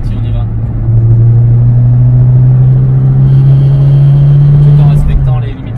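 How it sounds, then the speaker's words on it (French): A Renault 5 Baccara accelerates on a secondary road, its engine note rising steadily in a loud, sustained drone heard from inside the car, easing off near the end. "Tu peux nous faire une petite démo, une petite accélération dans ce cas-là dans le ventre?"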